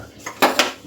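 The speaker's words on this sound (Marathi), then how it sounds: "गॅसवर कुकर ठेवूया" A metal pressure cooker is set down on a gas stove, giving two quick clanks close by.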